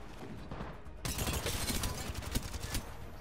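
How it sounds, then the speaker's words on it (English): Video game gunfire in a dense, rattling volley that grows busier after the first second, fairly faint and muffled behind game noise. "One's back here shooting. Shooting me."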